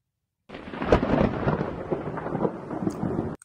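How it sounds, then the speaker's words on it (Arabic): Thunder rumbling through a stormy sky, a broad, loud, sustained roll that swells with a few sharper cracks and then holds steady for about three seconds before cutting off. "نستمع ونرى الرعد والبرق"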